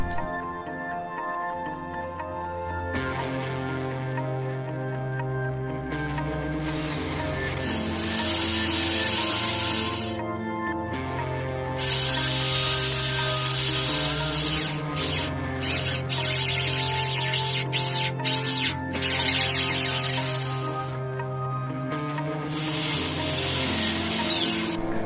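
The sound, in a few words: electric drill drilling into a wall to mount a geyser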